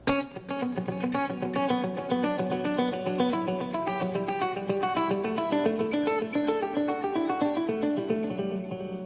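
A clean electric guitar plays a flowing run of picked notes, each echoed by a delay that keeps ringing behind the melody.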